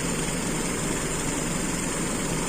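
A car engine idles steadily with a carburetor idle jet fitted for a fuel-consumption test, a continuous loud low rumble with no break and no voices.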